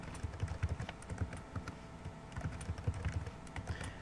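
Fingers type a password on a computer keyboard, a steady run of quiet, irregular key clicks lasting about four seconds with no talking.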